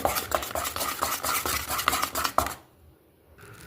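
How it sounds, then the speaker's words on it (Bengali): Five cracked eggs are whisked in a bowl, a fast run of clinking utensil strokes against the dish that stops abruptly, followed by a brief quiet stretch. "পাঁচটা ডিম ভেঙে দিয়েছি নেড়েছে এখন হচ্ছে মিশিয়ে রাখবো"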